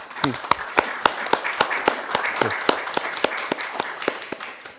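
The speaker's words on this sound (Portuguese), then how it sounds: "ele merece as palmas, de facto" An audience claps in tribute to Dr. Domingos Silva at a school–casino partnership event, sharp irregular hand claps repeating steadily throughout at moderate loudness, with a faint voice underneath.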